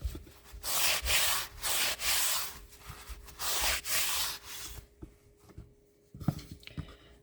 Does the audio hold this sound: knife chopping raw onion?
no